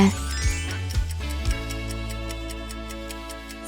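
Handmade lighthouse-shaped wall clock ticking steadily at a regular beat, close and clear, with a few heavier knocks early on and a faint tinkling ring through it.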